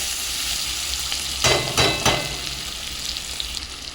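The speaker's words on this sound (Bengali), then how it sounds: "ভালো করে ভেজে নেব।" Ginger, garlic and onion fry in a pan for doi chicken, a close steady sizzle with a few louder stirring scrapes bunched in the middle.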